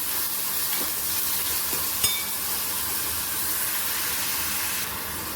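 Chopped onion sautéing and being stirred in a pan for veg bhurji, a steady soft sizzle and hiss with a brief scrape of the spoon partway through, close and continuous with no talking.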